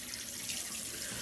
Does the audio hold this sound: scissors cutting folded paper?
no